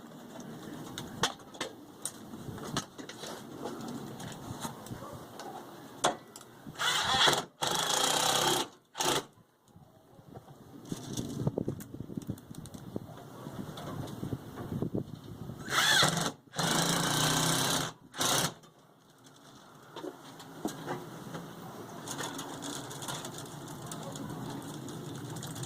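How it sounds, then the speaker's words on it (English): A power tool drives screws into wall studs during a residential service panel upgrade, giving several short bursts of whirring in the middle and again later in the clip, fairly close, over steady background noise. "Now he is screwing it into the studs."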